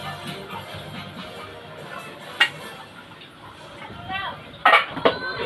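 Plates and pots clink and clatter during dishwashing, with scattered knocks and a couple of sharper clanks, while people talk throughout.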